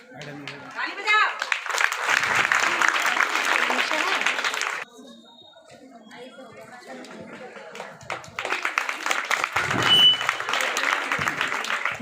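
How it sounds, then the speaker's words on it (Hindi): An audience claps at a school convocation ceremony in a long, dense round of applause that pauses briefly and then resumes just as strongly, with chatter mixed in. "ताली बजाओ।"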